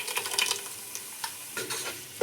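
Tomato paste is stirred into a pan of frying ginger and garlic for mushroom biryani, with a soft close sizzle and irregular scraping stir strokes.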